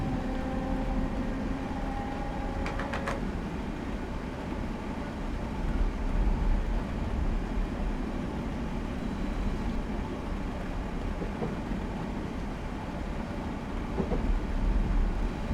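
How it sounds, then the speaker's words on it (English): Steady low rumble of a Class 321 electric train in Train Simulator 2015 coasting without power at about 5 mph on the Witham to Braintree route, with faint wheel and rail noise and a brief high tone early on. "I'm going to shut off power and let the train coast"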